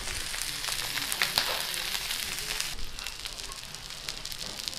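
Steak sizzling steadily in a hot pan while being basted with butter, a dense continuous crackle with small pops and spatters, close and fairly loud with no talking.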